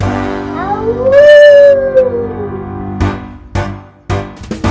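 A singing voice imitates a werewolf howl, one long gliding howl that rises and falls over a steady musical backing, followed by sharp rhythmic beats.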